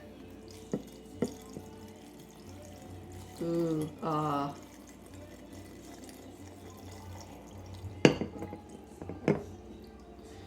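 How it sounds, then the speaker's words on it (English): Water poured into a home fermenting jar over cut vegetables, a short splashing pour near the mic, followed by a few clinks and knocks, with a brief exclamation heard. "you're gonna pour the water in"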